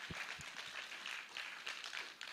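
A church congregation claps in encouragement during a service, a faint, steady wash of many hands heard from a distance.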